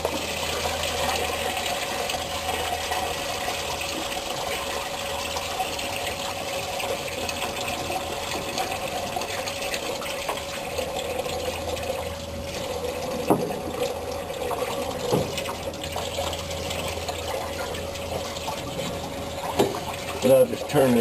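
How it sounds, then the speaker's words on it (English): Water draining from the heater hose of a 1965 Ford Mustang into a pan beneath it, a steady, close, continuous splashing and trickling that runs throughout with a few small clunks near the end. "make sure you have your pan under there. That'll drain the water."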